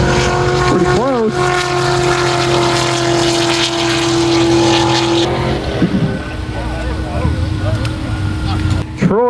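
Turbocharged Lexus IS300 and other cars, including a Viper and a Lamborghini Huracan, racing on an airstrip, with loud sustained engine roar and rising and falling pitch sweeps as cars pass, under ongoing talk.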